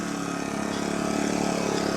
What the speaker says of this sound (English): Now for the final vacuum